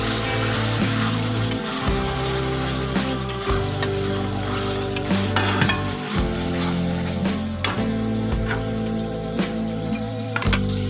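Spice paste sizzles steadily in oil in a pan, with occasional utensil scrapes and clinks, close up and continuous, while a low steady hum runs underneath.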